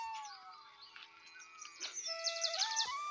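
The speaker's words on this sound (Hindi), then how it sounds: "सुबह जब चिड़ियों चह चाट अलग हुई" Small birds chirp and tweet in the morning in a Himalayan hill setting, thin high calls repeating in quick bursts, fairly faint against a quiet background.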